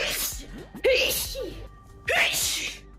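Two or three sharp sneezes, each with a quick breathy intake before the burst, spaced a little over a second apart, close and fairly loud.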